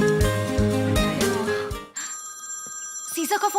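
A phone rings in a tense domestic scene, a steady electronic ringtone with repeating bright tones following a burst of loud dramatic music, with voices nearby.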